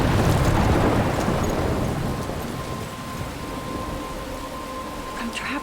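A thunderstorm rolls through in the video game Life Is Strange: heavy, close thunder rumbles loudly at first, then fades beneath a steady hiss of pouring rain.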